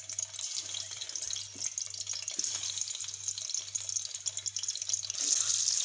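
Eggs fry in a pan of hot ghee with a continuous bright, hissing sizzle and spatter. A low mechanical hum pulses underneath, and the sizzle gets louder near the end.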